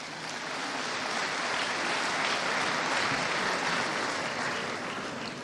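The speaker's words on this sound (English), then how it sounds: "So we need to clap for ICAN" A large audience at an accountants' conference claps in a broad, even wash of applause that swells slightly and holds steady for several seconds.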